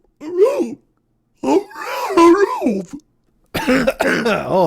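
A voice imitates whale song in long, swooping moans that rise and fall, in three drawn-out bursts separated by short silences.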